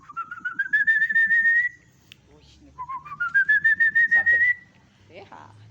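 Two long rising whistled phrases, attributed to the Silbón of Latin American legend, each a fluttering series of pulses sliding upward in pitch, loud and close, with a brief pause between them.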